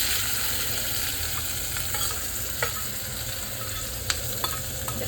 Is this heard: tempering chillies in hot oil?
yes